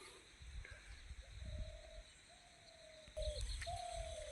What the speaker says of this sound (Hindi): ये छोटी चिड़िया पेड़ों में